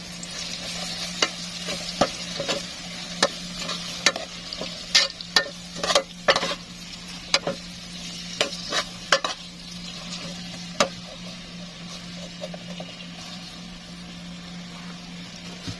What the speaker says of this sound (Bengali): আমি তেলগুলো দিয়েছি তেজপাতা দিয়ে ভালো করে নাড়িয়ে নেব